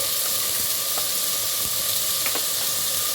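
Tomato pieces and salt cook in a pan for a tomato gongura curry, making a constant loud sizzle with light scattered pops and no voices.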